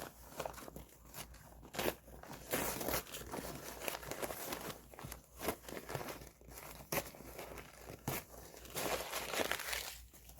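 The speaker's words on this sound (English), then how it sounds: "Let's rip away all the tear away." Tear-away stabilizer being ripped off the back of an embroidered Halloween quilt block, a run of dry papery tearing and crinkling bursts of varied length, close and fairly quiet, with no talking.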